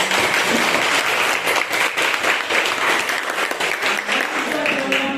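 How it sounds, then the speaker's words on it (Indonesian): Classroom applause from a group of students fills the room: dense, steady clapping lasting the whole stretch at fairly loud level, with a few voices mixed in. "Oke, berikan aplaus lagi"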